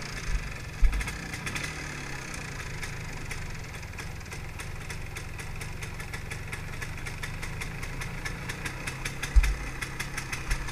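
An MZ 250 motorcycle engine idling steadily nearby, a continuous rapid ticking putter with a low mechanical rumble and a couple of brief thumps, no one talking.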